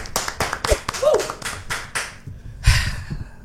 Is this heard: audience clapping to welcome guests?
yes